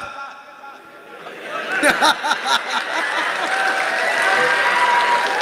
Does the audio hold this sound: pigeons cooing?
no